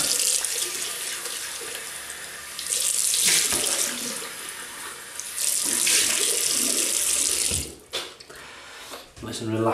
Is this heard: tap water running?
yes